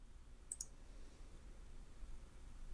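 A computer mouse gives a quick double click, faint and close, set against quiet room noise with nobody speaking.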